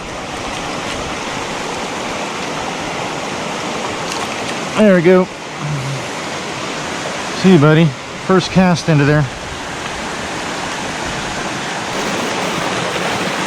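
A Southern California mountain creek rushes steadily throughout as broadband water noise, with someone talking briefly over it in a few short bursts.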